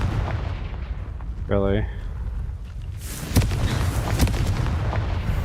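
A Confringo fire spell bursts in the Hogwarts Legacy game with a loud booming crackle followed by sharp popping blasts, preceded by a brief tonal chime over steady background sound, and a voice speaks briefly.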